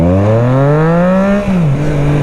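A Triumph Trident 660 motorcycle accelerates hard, its loud, close engine note climbing steadily in pitch, then briefly dipping at a gear change before pulling on.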